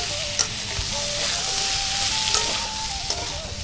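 A pan of papaya curry with chana dal is stirred steadily, the spoon scraping and clinking through a constant close sizzle of frying, with a few sharper knocks against the pan and no voices.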